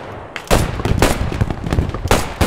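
MG34 machine gun fire in the WWII shooter Squad 44 in Carentan: loud, close bursts of rapid automatic shots with sharp cracks and reverberation, firing almost continuously for the whole stretch with no talking.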